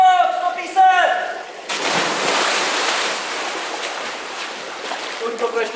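A wave washing over a swimmer's head in a pool during a drowning-rescue training session, a loud rushing wash of water close to the microphone right after a brief spoken phrase.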